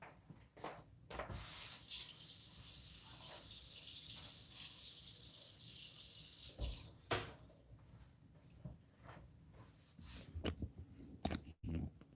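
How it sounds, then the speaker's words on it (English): A pot being washed under a running kitchen tap: water gushes steadily for several seconds with splashing, then breaks into intermittent splashes and clatters as the flow is stopped and started. "wash this pot off,"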